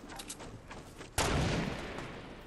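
A gunshot or blast in Fortnite Battle Royale hits abruptly after a quieter stretch of faint crackling, then a loud sustained roar of rolling gunfire slowly decays.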